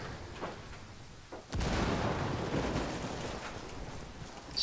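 A frag grenade detonates in Ghost Recon Wildlands, a sudden heavy boom followed by a long rumbling roar that slowly fades, with fainter distant thuds before it.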